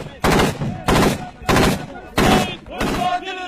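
Gunfire near a frontline farmhouse, five loud, evenly spaced heavy shots or short bursts, each with a rolling echo that trails off before the next.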